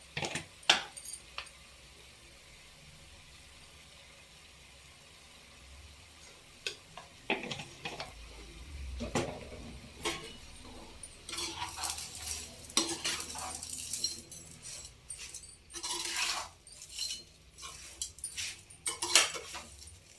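Lemon pickle with rock salt and turmeric is mixed in a pot, giving quiet at first and then intermittent scraping, clinking stirs and soft sizzling bursts, close and moderately loud.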